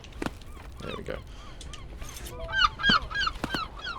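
Seagulls in the video game Peaks of Yore give repeated squawking calls, the loudest cluster coming in quick succession near the end, over soft background game sounds.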